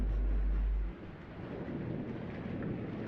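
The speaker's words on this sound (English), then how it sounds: "I hear stormy weather." Thunderstorm ambience from the puzzle video game Blue Prince, with a deep rumble of thunder fading out early, then steady rain hiss continuing quietly beneath.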